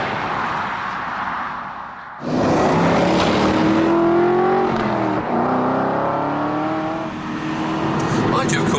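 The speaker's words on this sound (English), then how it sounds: "that torquey V8 has that wall of acceleration" An Aston Martin with a V8 engine accelerates hard on a racetrack, its loud engine note climbing steadily through the revs with a brief dip at a gear change, close and continuous for several seconds.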